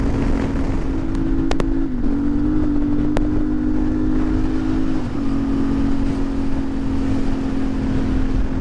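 A CF Moto Ibex 450 adventure motorcycle cruises on an open road near 60, its engine holding a steady loud drone with slight dips in pitch as the throttle shifts, wind rushing over the microphone.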